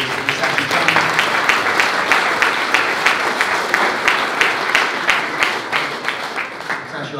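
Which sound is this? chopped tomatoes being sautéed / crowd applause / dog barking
crowd applause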